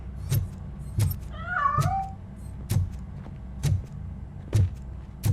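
A single wavering meow from a cat in the video game RoboCop: Rogue City rises in the middle, set against sharp periodic clicks and thumps that repeat about once a second.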